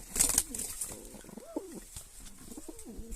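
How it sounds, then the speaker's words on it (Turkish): Pigeons coo softly nearby, a few low throaty calls repeating over light background noise. "Kuşlar."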